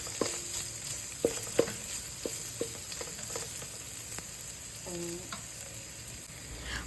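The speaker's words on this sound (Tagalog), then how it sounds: "Igisa lang natin yung mga bawang," Garlic, onion and ginger sautéing in hot oil, a steady soft sizzle with a few sharp clicks of a utensil against the pan and a brief rattle near the end.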